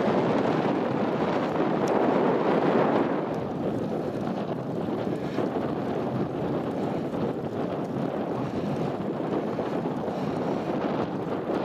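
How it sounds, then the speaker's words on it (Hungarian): Strong wind roars and buffets the microphone continuously, a heavy rumbling gust swelling early then settling into a steady blustery rush. "A szél az kellemetlenebb most."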